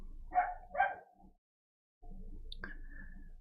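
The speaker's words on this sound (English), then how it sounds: "Apologies again for the stupid background noise of the dogs barking." Dogs barking in the background somewhere in the Philippines, two quick barks followed by a softer yip, then a pause and a faint distant whine over low room hum.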